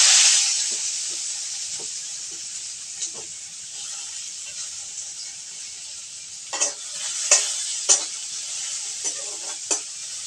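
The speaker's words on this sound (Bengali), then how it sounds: "এবার আমি পেঁয়াজ কুচি এবং রসুনের কোয়া একটু ভেজে নেব।" Chopped onion and garlic cloves hit hot mustard oil with a loud initial hiss that settles into a steady sizzle, punctuated by intermittent spoon scrapes and taps as they are stirred.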